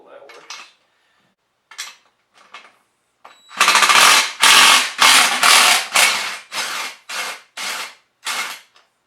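Metal tool clatter while a nut is worked off a rear tire axle with regular pliers, a string of sharp, loud, close metallic clanks in an uneven rhythm, preceded by faint quieter handling sounds.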